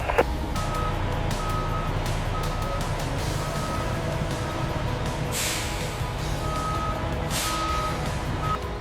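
A delivery truck pulls through the gate of a watermelon juice factory, its reversing alarm beeping in steady intermittent pulses over a continuous engine rumble, with brief hisses of air brakes.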